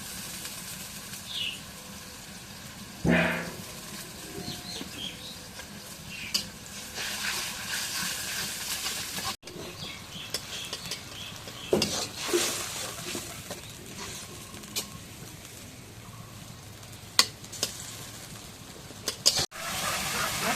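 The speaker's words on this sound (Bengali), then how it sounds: "এখন জিরা বাটা রসুন বাটা দিয়ে দিচ্ছি" Cumin and garlic paste fries in a pan while being stirred, a continuous soft sizzle broken by scraping strokes, occasional knocks and a few sharp clicks, with no speech.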